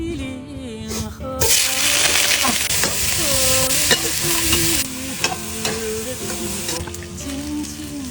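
Vegetables frying in oil in a wok or pan, a loud steady sizzle with repeated scraping stirs, a brief water or tap sound and voices in the background.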